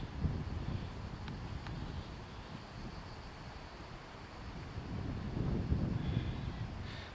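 Steady low wind buffeting the microphone outdoors at Castel Sant'Elia, Italy, a continuous rumbling roar that swells slightly toward the end, with no talking.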